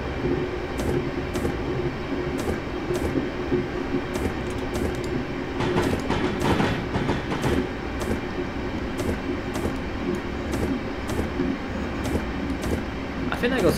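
Train running on rails in the Train Simulator 2018 video game, a continuous rumble with regular clickety-clack wheel beats over the track joints and brief squeals, steady and fairly loud.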